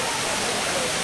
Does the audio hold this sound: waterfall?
yes